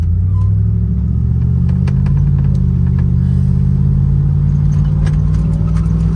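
A 1987 Ford Mustang McLaren with a 5.0 V8 idles with a loud, close, deep rumble, steady and throaty with slight fluctuations and faint ticking over the top.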